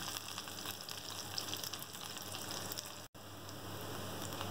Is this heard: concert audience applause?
no